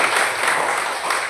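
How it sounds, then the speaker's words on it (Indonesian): A classroom group gives a short burst of applause, many hands clapping together in a dense, steady patter. "Mari kita beri aplaus."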